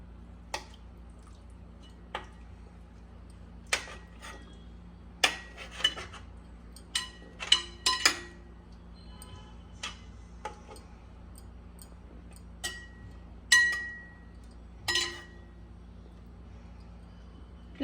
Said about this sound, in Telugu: ఇవన్నీ కలిసేలాగా బాగా కలుపుకోవాలి.